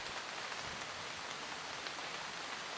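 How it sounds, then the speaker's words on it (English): Raindrops pattering on the roof of a truck camper parked in a forest campsite near the Tetons, a steady soft hiss of dense drops heard from inside, faint and continuous with no talk. "we started to hear raindrops on the roof of our camper"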